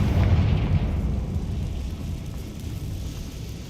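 A fiery Confringo spell blast in Hogwarts Legacy, a deep rumbling boom that swells at the start and rolls on as a long, heavy low roar without any voices.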